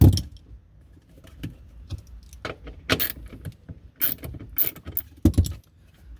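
Metal trunk latch parts for a Mercedes W124 are handled and shifted into place, giving a scattered series of close clicks, clanks and rattles of varying loudness with short pauses between them and no talking.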